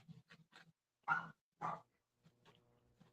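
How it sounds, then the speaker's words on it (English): A dog barks a few times from a distance, shut out of an art studio, with two sharper, louder barks standing out among softer yelps and pauses of quiet. "I hear your dog barking"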